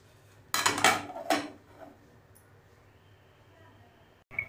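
Metal lid set onto a pot of spicy Marathi potato bhaji on the stove, giving a couple of close clinks and clatters of cookware followed by a quiet kitchen hum and one more brief knock at the end.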